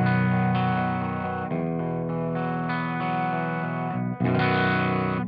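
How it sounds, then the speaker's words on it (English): An Eastwood Sidejack Deluxe baritone electric guitar plays sustained, heavily effected chords with distortion and chorus, loud and close, with a brief dip near the end. "here we've got Eastwood Sidejack Deluxe Baritone"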